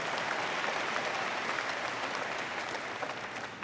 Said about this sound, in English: we can give an applause for Bardish.